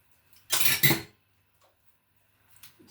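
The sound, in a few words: spoon adding Greek yogurt to a dish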